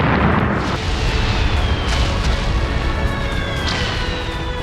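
Heavy missile explosions in a Middle East war strike, a loud continuous roar of booming blasts with rumbling debris and faint whistling tones, dense and close, with no voices.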